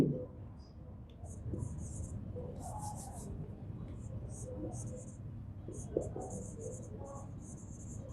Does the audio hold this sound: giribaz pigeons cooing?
no